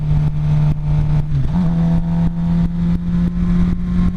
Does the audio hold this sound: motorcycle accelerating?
yes